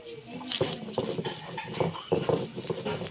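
Roasted cumin, coriander and chilli are ground into a paste for a taro curry, giving a close, rhythmic series of scraping knocks and clatters at an irregular, working pace.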